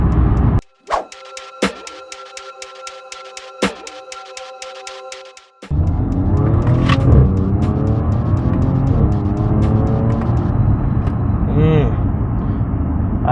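A 2013 Audi S4 engine rises in a strong rev and pulls hard under acceleration, a loud continuous roar filling the second half after a few sharp knocks earlier, with speech heard over parts of it.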